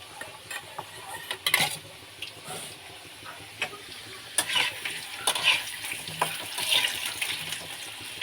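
Potatoes frying in a tomato-based spice paste, a steady low sizzle broken by scraping and clinking of a stirring spoon against the pan, close and alone without talk.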